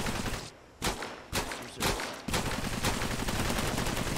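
Gunfire in the video game Cepheus Protocol: rapid automatic weapon bursts crackle over a dense, loud background, with several sharper shots standing out before the firing becomes continuous.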